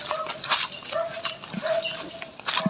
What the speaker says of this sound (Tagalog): Yan po yung mga kambing natin.